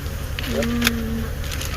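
A swarm of Africanized killer bees buzzes steadily at an opened hive during a cold-weather removal at 25 degrees, forming a dense continuous drone with a few louder passes near the microphone.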